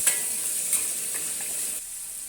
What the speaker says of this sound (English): Place the marinated beef into the wok. Have a quick few stirs and flips to get the beef quickly heated.